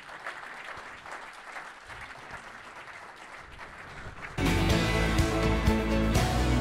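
Conference audience breaks into applause, a dense crackle of many clapping hands that starts softly and then surges louder and fuller toward the end, filling the room without talk.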